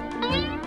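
A cat meows once, a drawn-out, close, fairly loud cry while it chases a laser pointer, with a steady background hum.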